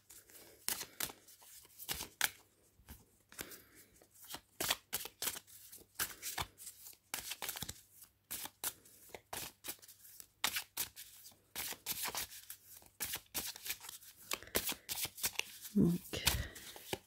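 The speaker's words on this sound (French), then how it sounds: "je vais trier les cartes" Tarot divination cards shuffled by hand in a long run of quick riffling and flicking bursts, close and fairly soft, with brief pauses between handfuls.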